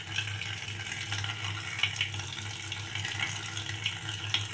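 Cooked samyang noodles with seafood snacks are drained, a continuous rushing pour of water splashing into a sink, steady and fairly loud throughout with a low hum underneath.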